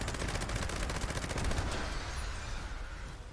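Gauss minigun firing in Fallout 76 at a flying Scorchbeast, a dense, sustained rapid-fire roar with fast repeating bursts that stay loud throughout, then ease slightly toward the end.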